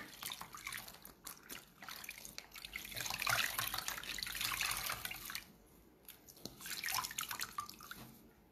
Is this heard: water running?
yes